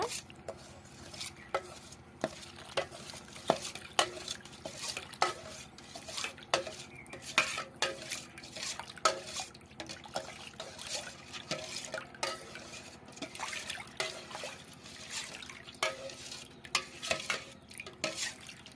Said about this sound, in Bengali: গুঁড়া দুধ এবার ভালো করে মিশিয়ে নেব